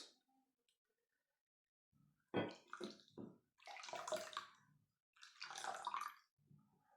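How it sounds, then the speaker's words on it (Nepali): Turmeric water is poured into a container in a few gurgling, splashing bursts separated by short pauses, close and fairly quiet. "यो बेसार पानी यसमा हालौँ"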